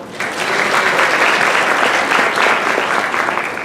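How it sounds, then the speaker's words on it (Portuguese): Audience applause at a church talk or sermon event, a dense steady wash of many hands clapping that starts abruptly and holds at full, close volume throughout. "Uma salva de palmas para o João."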